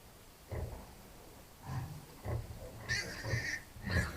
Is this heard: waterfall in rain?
no